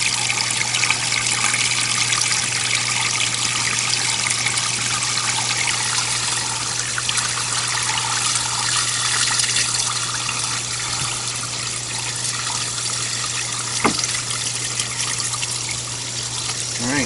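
Water flows steadily from a half-open RV valve, a continuous close gushing trickle under a low steady hum, with no talk.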